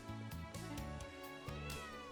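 A cat meows in the video game Trails of Cold Steel 3, with a few short mews set over steady game music that runs throughout.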